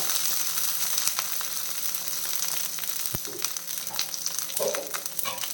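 Cumin seeds with curry leaves frying in a pan over a low flame, a steady soft sizzle with scattered crackles and a single sharp knock partway through, close with no talking.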